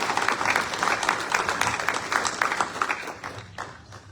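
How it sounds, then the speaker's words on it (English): An audience at a government forum breaks into a steady round of applause, dense clapping that holds for several seconds before thinning out at the end. "So if we can give all those a round of applause"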